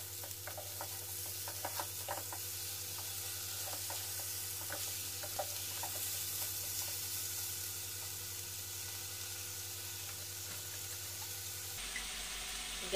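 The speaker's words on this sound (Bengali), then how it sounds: "একটু ভালো করে একটু নাড়াচাড়া করে নেব।" Fried rice with sugar added is stirred in a pan over lowered gas heat, a steady close sizzle broken by scraping spatula strokes, with the sound shifting abruptly near the end and no talk.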